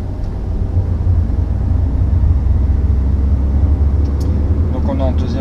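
Car pulling out and accelerating during a driving lesson, a loud steady engine rumble rising under the drive, with road noise and brief faint clicks near the end.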